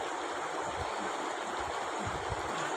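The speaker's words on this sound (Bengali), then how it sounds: "তো চলো জলটা দিয়ে দিই" Water pours into a bowl of flour and gram flour mixed with chilli and turmeric for pumpkin flower fritter batter. It makes a steady, close rushing splash that runs the whole time, with no talk over it.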